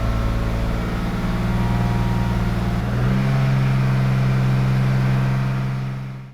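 A BMW M50 engine in a Cabrio with faulty fuel injectors, held at about 2500 rpm, produces a loud, steady drone with an uneven, pulsing roughness that steps up in pitch partway through before fading out.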